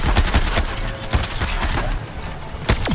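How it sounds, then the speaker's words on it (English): Gunfire in the Suicide Squad Kill the Justice League video game, a loud rapid fusillade of cracking shots and impacts filling the clip, with a whooshing effect near the end. "Firing on your target."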